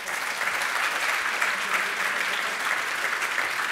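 Audience at a European policy panel discussion applauding a speaker, sustained, even clapping from many hands filling the room without pause.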